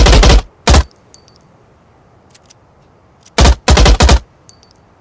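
Bursts of automatic gunfire in the video game P53 Monarch, loud and close: a short burst, a single shot, then after a quiet stretch several rapid bursts in quick succession.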